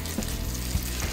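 Marinated beef rump hits hot peanut oil in a wok, a dense, steady sizzle that fills the whole moment with a couple of soft knocks mixed in, close and alone.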